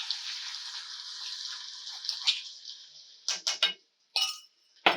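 Crushed garlic and ginger hit hot oil in a pan with a soft close sizzle that fades out, followed by a few sharp clinks of a utensil.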